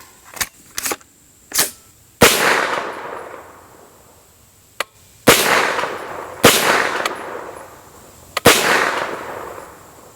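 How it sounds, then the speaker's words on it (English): A Windham Weaponry 9mm carbine fires five rounds at a 100-yard range, each shot a sharp, loud crack spaced seconds apart, with short echoing tails and a few fainter clicks between them. "I'm going to go ahead and take my time and put 5 rounds down range at 100 yards"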